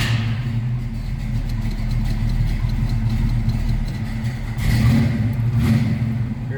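A 1969 Chevrolet Camaro 427 V8 cranking over and settling into a steady, deep rumbling idle with a slight swell in revs, heard close and alone.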